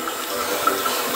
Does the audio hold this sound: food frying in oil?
no